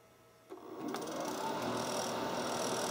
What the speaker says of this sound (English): now the compressor's on, it's running, the condenser fan is blowing hot air out the back